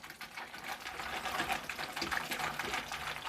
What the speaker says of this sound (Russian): Давайте теперь зальем воды. Простая вода из-под крана. Просто заливаем.